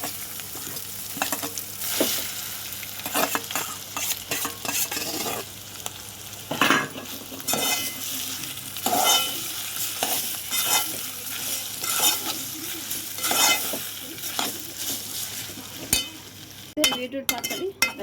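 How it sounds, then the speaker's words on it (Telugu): Pounded beetroot chutney is stirred into a sizzling tempering with curry leaves in a pan, giving a close, continuous frying hiss, repeated scraping strokes and occasional clinks of the spoon on the pan. "ఇప్పుడు దంచుకున్న బీట్రూట్ పచ్చడి అయితే దీంట్లో వేయాలి."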